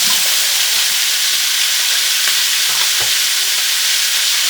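Onions, celery, carrots and garlic leeks sautéing in a pot, a loud, steady sizzle and hiss with faint stirring knocks, no talk.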